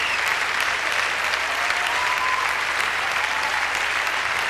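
Generous arena applause for the Italian winning couple at a 2002 IDSF Standard ballroom championship, a thick, even roar of clapping from many hands, steady and unbroken.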